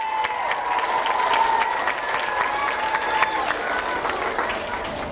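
An audience claps at a school awards ceremony celebrating high district test results, with steady applause mixed with crowd cheers and a few whistles, a voice faintly heard beneath.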